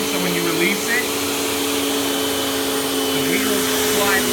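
A Panasonic Performance Plus Platinum MC-UG589 upright vacuum runs loud and steady on carpet, a constant whining roar with a voice talking over it.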